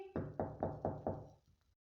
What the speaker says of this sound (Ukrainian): Одного разу хтось постукав у двері.